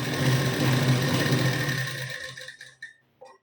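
A sewing machine stitches a blouse seam in a close, fast, continuous whir lasting a couple of seconds, then slows and stops, leaving a few soft clicks and fabric rustles.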